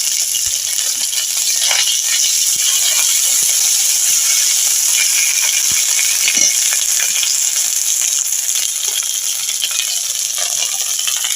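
Ginger paste and cumin seeds hit hot oil in a pan while shukto is being cooked. A loud, even hiss of frying holds steady throughout, with faint occasional ticks and rattles beneath it.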